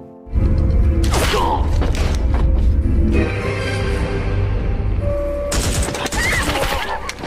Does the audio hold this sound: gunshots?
yes